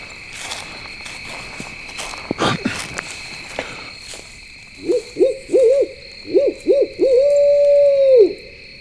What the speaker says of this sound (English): I've never heard an owl do that.